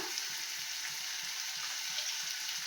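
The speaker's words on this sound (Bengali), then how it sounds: "এবার দেখো এর মধ্যে আমি দেখো মশলাটার সাথে ভেজে কষিয়ে দিলাম" Katla fish cooked with spices, green chillies and a little sugar sizzles steadily in a pan, a dense, even crackle of frying oil with a soft repeating low knock of stirring underneath, close and continuous.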